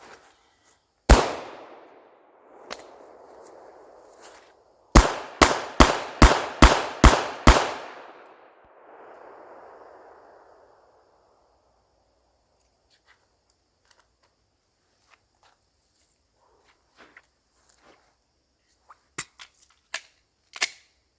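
A backup pistol firing PMC Bronze full metal jacket training rounds outdoors: one loud shot, a pause, then a rapid string of about six sharp cracks, each ringing off into a fading echo, followed by quiet clicks and later a few more shots.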